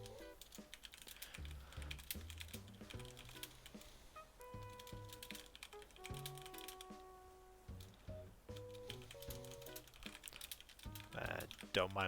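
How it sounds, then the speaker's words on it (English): Someone types on a computer keyboard during an Animal Crossing New Horizons stream. The rapid clicking keys run steadily and fairly faintly under game music, with a person talking over it. "Don't mind me just typing."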